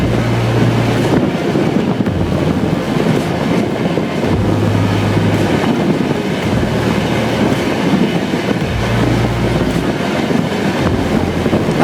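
An onboard WAP7-hauled 12028 Chennai Shatabdi runs steadily above 110 km/h between Pattaravakkam and Perambur, with a loud continuous roar of wheels and wind and a rhythmic clickety-clack of rail joints throughout.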